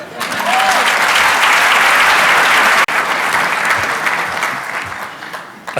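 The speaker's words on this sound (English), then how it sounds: "please give a very, very warm and generous applause to the one and only Jerome Smith" Warm applause from a luncheon audience greeting a guest speaker, loud sustained clapping that cuts briefly near the middle and then tapers off toward the end.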